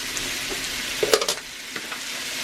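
Ham and bacon fry in a cast iron skillet, giving a steady, even sizzle with a few brief clatters and pops partway through.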